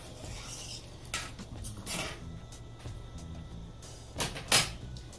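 Metal rice pot and lid being handled at home during a Jamaican Sunday dinner: a few soft clanks and scrapes, ending in a sharper lid clatter near the end, with no talking.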